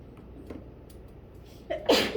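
A single sharp sneeze bursts out near the end after a quiet stretch, close and loud, during a physics lecture.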